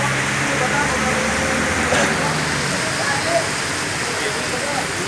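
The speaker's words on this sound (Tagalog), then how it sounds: "Ito lakas ng ulan." Heavy rain pours down steadily during overnight outdoor work, a dense continuous hiss with voices of workers talking faintly under it.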